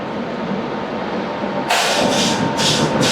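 The Vaishali Superfast Express, running New Delhi to Saharsa, closes in from behind with a steady rumble of rail traffic, then a sudden loud burst of rushing, rhythmic clatter in pulses as it draws level.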